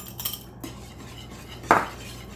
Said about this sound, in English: Next, you're going to whisk